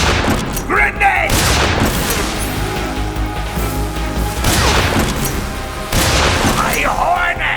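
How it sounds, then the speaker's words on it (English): A grenade goes off in Metal Gear Solid 3: Snake Eater, with several loud booming blasts and crashing impacts amid gunfire-like bursts, a shouting voice and game music underneath. "Grenade!"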